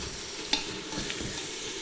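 Vegetables for a veggie pasta are stirred in a hot pan, a steady close sizzle with one sharp spoon scrape near the start and softer stirring after it.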